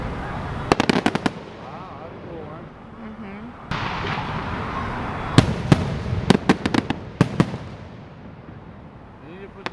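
A fireworks show seen from the side of a freeway: sharp cracks and booms burst in clusters, some far off and some louder, over a steady background rumble while people talk now and then.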